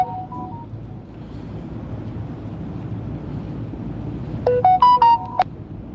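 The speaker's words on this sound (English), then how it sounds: "It's the sound of me getting a text message." A phone chimes a short text message notification melody, clear and close, over steady wind and open-air rumble by the water near Manhattan, with a brief tonal blip earlier.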